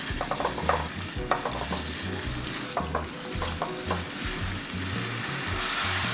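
Glass noodles stir-frying in a hot pan, with a steady loud sizzle and repeated scraping strokes of a utensil stirring them throughout.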